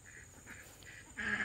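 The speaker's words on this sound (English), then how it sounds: "My ducks have been playing in it all day." Backyard ducks quack outdoors near muddy water, giving a few short quacks in a row and then a louder, longer one at the end, fairly close and clear.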